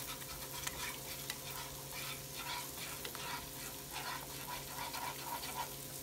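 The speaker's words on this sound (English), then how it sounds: "Let's get that stirred up in there." Chicken piccata being stirred in a sizzling pan, a steady frying hiss with repeated soft scraping strokes of the spoon throughout, fairly close and continuous.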